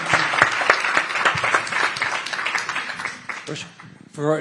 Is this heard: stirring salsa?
no